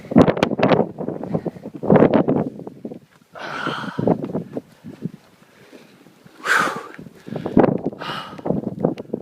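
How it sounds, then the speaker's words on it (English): Gusting wind buffets the microphone on the exposed summit of Mt. Washington in New Hampshire, coming in loud, irregular, rumbling bursts close to the mic with short lulls between them. "I'm trying to get out of the wind."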